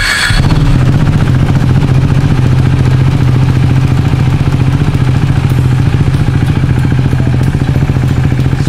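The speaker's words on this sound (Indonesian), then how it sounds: "nunggu tek lagi, baru di tombol elektrik starternya." A KTM Duke 390 single-cylinder motorcycle fires up on its electric starter and settles into a steady, loud, close throbbing idle that runs throughout.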